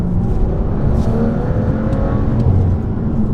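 A BMW F87 M2 with the N55 engine revs close by, its steady, throaty engine drone rising and falling slightly while it runs continuously.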